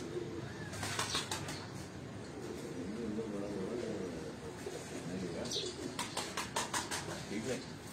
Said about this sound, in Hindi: ये तमाम वो प्रवासी कबूतर हैं